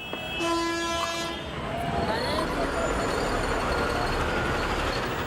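Busy traffic around the Anand Vihar interstate bus terminal on the Delhi–Uttar Pradesh border, a steady roar of engines and road noise with a loud horn blast near the start.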